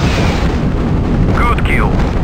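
80mm rockets launch from a helicopter gunship in the 1998 combat flight game Hind, a loud continuous rushing roar and boom with a brief whistling streak.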